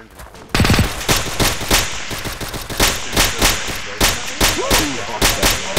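Machine gun fire in the Arma ShackTac I44 video game, loud rapid bursts and repeated heavy shots pounding at close range in an uneven rhythm, with distant gunfire filling the gaps and no talk.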